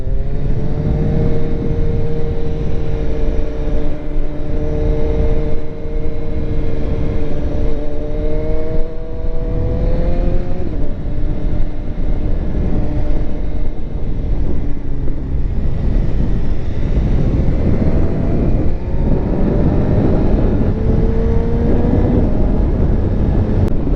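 A BMW S1000RR motorcycle engine revs hard at full RPM, a loud continuous high-pitched wail with shifting harmonic tones that rise and fall across the whole stretch.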